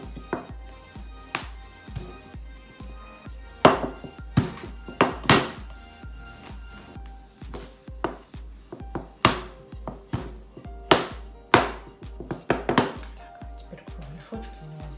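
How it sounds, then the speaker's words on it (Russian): A rolling pin works small pieces of dough into rounds for sausages wrapped in dough, giving a steady series of close, dull knocks and thumps against the board, with a few louder hits. "Раскатываю каждый кусочек кругляшочком."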